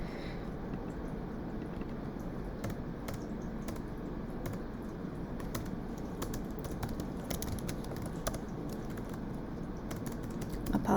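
Continuous keyboard typing, quick irregular key clicks throughout, close by over a soft steady background hum.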